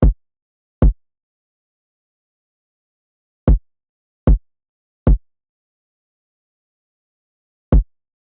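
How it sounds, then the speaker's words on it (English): Six deep, punchy kick drum hits from an FL Studio 90s R&B beat land in a sparse, uneven pattern, each thump short and clean against silence. "This is just a pretty basic kick pattern following the live bass."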